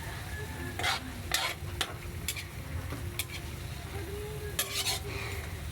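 Chicken adobo sizzles steadily in a pan while a spoon scrapes and stirs it in several short bursts, with a constant frying hiss underneath and no one speaking.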